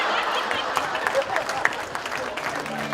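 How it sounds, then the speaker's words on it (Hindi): Audience applauding at a Nazimabad reunion gathering, a dense wash of clapping with some crowd noise, fairly close and steady for a few seconds before a voice comes in at the end. "इतिका के लिए तालियां जोरदार।"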